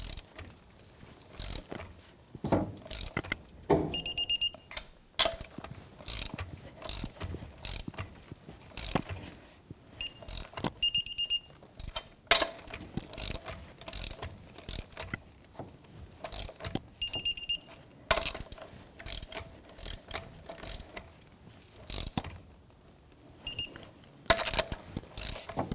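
Torque wrench ratcheting lug nuts onto the front wheel of a 2003 Jeep Wrangler with original, stretched studs, repeated close mechanical clicks in bursts, with a few sharp click-over signals when torque is reached.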